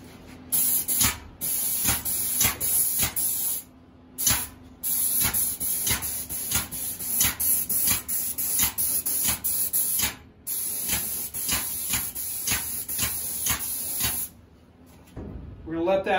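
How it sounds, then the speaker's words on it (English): Repeated bursts of aerosol lacquer spraying onto the back of an acoustic guitar, hissing loudly and close, in a steady rhythm of short sprays separated by brief pauses. "And then we'll spray the backside."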